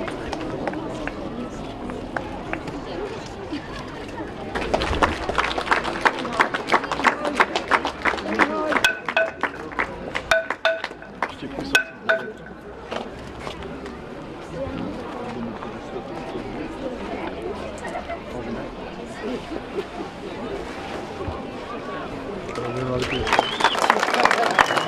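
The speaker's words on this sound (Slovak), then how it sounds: "Poprosím veľký potlesk." A crowd gathered outdoors at the unveiling of an information board on a mining educational trail breaks into lively, dense clapping that peaks midway, then fades into crowd chatter and talking.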